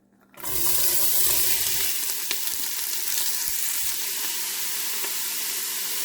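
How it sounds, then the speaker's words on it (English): Chopped onion, celery stalks and small carrots hit hot oil in a soup pot, bursting into a loud, steady sizzle that settles into continuous even frying, close and alone. "we're just going to sweat them down a little bit."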